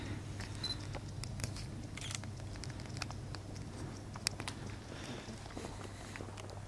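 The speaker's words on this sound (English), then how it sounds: "You can hear some bug clicking." Faint, scattered bug clicks inside a decommissioned power plant, sparse ticks and small taps over a low, steady hum in a quiet, echoing interior.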